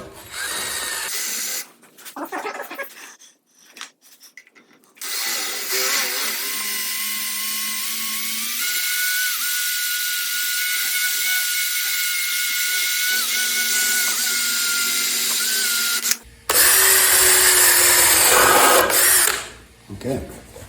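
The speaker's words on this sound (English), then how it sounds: "1-inch hole saw that's probably going to make it a lot easier for me to drill through here" A power drill with a 1-inch hole saw whines at high speed through wood with a steady pitch, stopping and restarting a few times, the motor slowing briefly between bursts.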